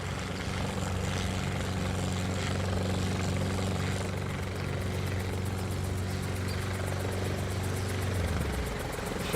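A helicopter's rotor chops steadily and loudly overhead, its droning engine holding for several seconds before the sound drops away near the end.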